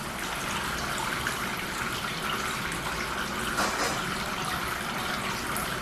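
Continuous rushing and splashing of water pouring steadily from a small filter pump into buckets, loud and close, with no voices over it.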